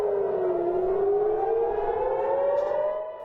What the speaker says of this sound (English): Sirens howled throughout the night at Ashkelon, the Israeli coastal town